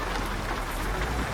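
Steady rain hisses in Euro Truck Simulator 2, a dense, even patter drumming close by as if on a truck cab and window, continuous with no talk over it.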